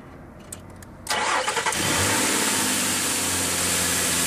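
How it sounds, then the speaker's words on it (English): Frontier vehicle engine cranking over and catching, a short starter whir that rises into a loud, steady running engine idling close by, with no talking. "now we're gonna crank it over"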